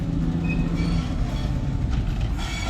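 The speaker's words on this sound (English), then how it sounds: "We're waiting for the train." A train rumbles past a station platform in Cuba with a heavy, continuous roar, faint wheel clatter and a brief high squeal near the start.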